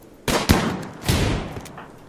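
Gunfire in the colony-building game RimWorld: a few sharp, close shots crack in quick succession, each trailing into a short noisy decay.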